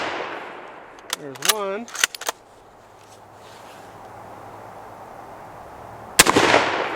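A Mosin Nagant M91/30 rifle shot at shaving cream cans outdoors is heard as one loud, sharp report near the end, after someone speaks briefly over quiet ambient noise.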